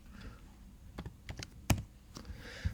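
Quiet typing on a computer keyboard during a design-software text tutorial, with a handful of separate key clicks and one sharper tap, no talking.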